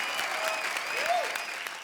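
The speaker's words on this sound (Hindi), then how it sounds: "जोरदार तालियां इनके लिए।" Loud audience applause at a comedy show fills the whole moment, a dense continuous clatter of clapping with a faint voice underneath.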